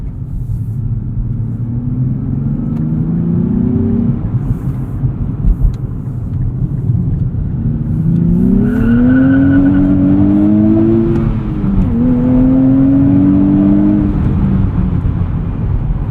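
A 2023 Nissan Z engine rises in pitch through the gears while driving, a loud, close drone climbing, dropping at each shift, then climbing again over steady road rumble.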